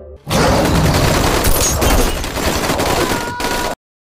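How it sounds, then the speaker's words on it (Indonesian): Loud, dense gunfire crackles continuously with heavy booms mixed in, like a sustained volley of shots up close, cutting off abruptly. "semuanya bersiap dengan senjata dan melepaskan tembakan"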